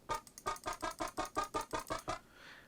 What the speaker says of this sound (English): with the flanger, it just sounds like.